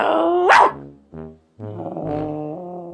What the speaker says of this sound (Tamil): அங்க ஒரு நாய் இருக்கு